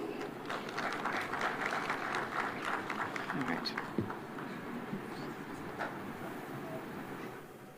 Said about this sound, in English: A round of applause for him, please.